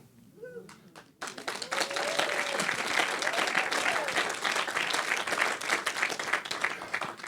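An audience at a speaker showcase bursts into sustained applause, dense clapping from a large room that rises after a brief moment of talk and holds steady to the end.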